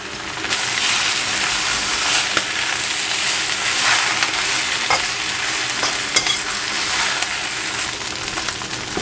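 Pad see ew being stir-fried in a hot wok, a constant dense sizzle with repeated scraping and tossing clatters from the spatula, close and loud throughout with no talking.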